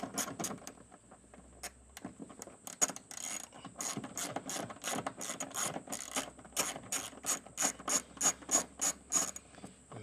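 A hand ratchet undoes a 10mm screw behind a trim panel inside a BYD Shark 6, giving a close, quiet run of rapid pawl clicks in uneven bursts, speeding into a steady rhythmic clicking.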